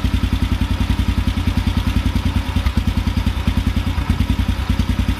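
Engine idling with a fast, pulsing, slightly uneven chug during a carburetor idle-drop adjustment, loud and close, a steady rapid beat with small irregular dips, no talking.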